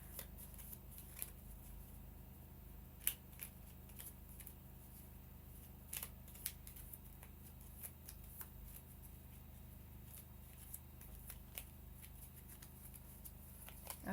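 A deck of cards for a solitaire board game is shuffled quietly at a table, soft riffles and light taps recurring throughout in a faint, close, intermittent patter.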